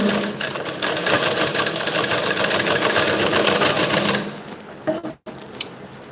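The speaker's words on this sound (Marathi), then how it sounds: "हे बघा इथे आपण शिलाई मारून घेऊ" An electric sewing machine runs steadily, stitching fabric piping for ladies' tailoring, a close, continuous mechanical whir that stops after about four seconds, followed by a few handling clicks.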